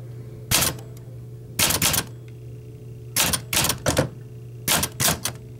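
An Olympia SM9 German typewriter fitted with a red ribbon types in short bursts of sharp, loud key strikes. The bursts come in irregular clusters separated by brief pauses, close up, with a faint steady hum beneath.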